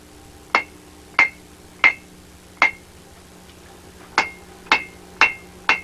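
Hammer blows on metal at a blacksmith's anvil, eight sharp ringing strikes in a fairly regular rhythm, four then a short gap and four more, loud and close with no talk.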